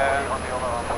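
A steady engine drone fills the cockpit of a Cessna 152 light aircraft, constant and close, running beneath someone speaking.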